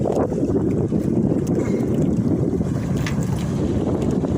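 A passing ship's engine drones under strong wind buffeting the microphone, heard from a boat with water rushing against the hull, loud and continuous.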